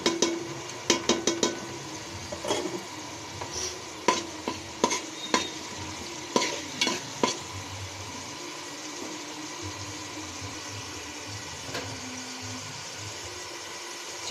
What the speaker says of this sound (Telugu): నెక్స్ట్ శుభ్రంగా కడిగి పెట్టుకున్న కరివేపాకు